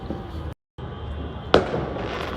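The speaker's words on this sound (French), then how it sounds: "Il y a énormément de feux d'artifice." Fireworks bursting outdoors during a public celebration, a continuous crackling rumble with a brief silent gap, then a sharp loud bang followed by more sustained popping and hiss.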